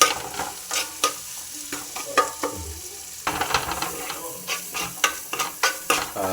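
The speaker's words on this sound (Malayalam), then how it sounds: "ഒന്ന് ഇളക്കി കൊടുക്കുക" Fish curry masala is stirred in a pan with a spoon, giving a rhythm of repeated scraping strokes over a low sizzle, close by and without speech.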